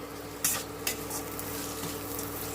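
Onions, chillies, curry leaves and capsicum sautéing in a pan for Maharashtrian poha: a steady low sizzle broken by two sharp scraping stirs near the start, with no talking.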